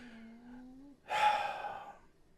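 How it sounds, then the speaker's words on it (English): A pug dog snores close up: a drawn-out droning intake is followed by a harsher, breathy snort, all within a couple of seconds. "Listen to the sounds of Pug snoring"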